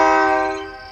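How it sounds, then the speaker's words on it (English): A sustained, tonal horn-like blare from a passing SD40-2 locomotive pulling coil cars, fading quickly over under a second. "And here comes the train."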